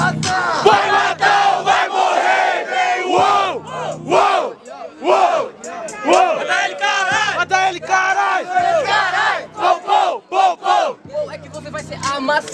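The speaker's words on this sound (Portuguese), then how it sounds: "Essa plateia que faz a terra tremer" Battle rap crowd roaring and chanting in unison, loud rhythmic shouted call-and-response bursts repeating with brief gaps, under a thumping beat.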